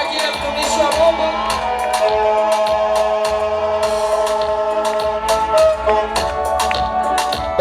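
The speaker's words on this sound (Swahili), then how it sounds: "Makofi na vigelegele." A crowd at a religious gathering claps and ululates, with high, wavering trills held over a steady clatter of applause.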